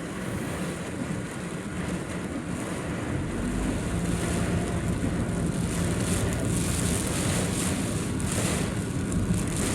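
Steady roaring wind buffets the microphone throughout, with a broad rushing noise that swells slightly louder in the second half.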